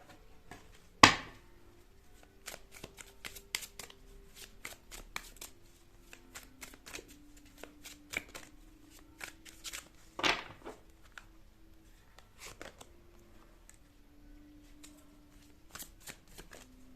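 Tarot cards are shuffled by hand for a reading, quick papery riffles and flicks in repeated bursts with a couple of louder snaps, close and quiet with no talking.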